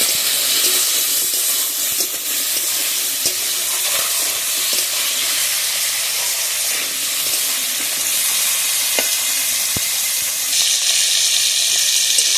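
Crab frying in hot oil with salt and turmeric, a loud, steady, dense sizzle and hiss that continues throughout, with a few faint clicks of movement in the pan.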